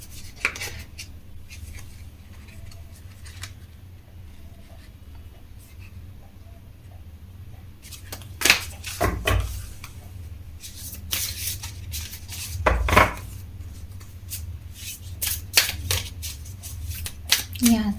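A deck of tarot cards is shuffled in soft riffling bursts and scattered taps, close and moderately loud, with a low steady hum underneath during a card reading.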